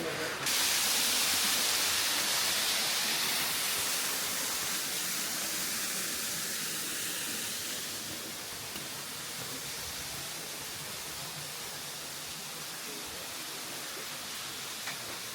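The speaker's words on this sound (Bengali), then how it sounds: "চারিদিকে জল পড়ছে আর আমরা এখন গুহার মধ্যে রয়েছি" Inside Mawsmai Cave in rainy Cherrapunji, water pours and drips all around in a constant broad rushing hiss that eases slightly partway through, with no distinct voices.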